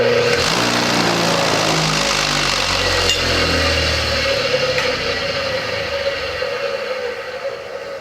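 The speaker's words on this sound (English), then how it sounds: "and I'll plug the motor in" A DIY electric motor dyno running a power pull, a steady loud motor drone that holds nearly constant for the whole stretch, fading slightly near the end, with no talking.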